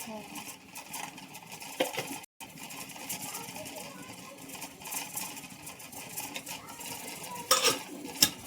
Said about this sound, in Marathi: आता मिक्स करायचं